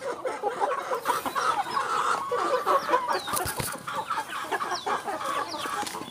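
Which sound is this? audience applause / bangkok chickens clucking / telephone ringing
bangkok chickens clucking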